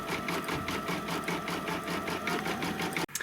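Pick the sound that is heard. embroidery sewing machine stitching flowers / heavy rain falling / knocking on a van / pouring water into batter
embroidery sewing machine stitching flowers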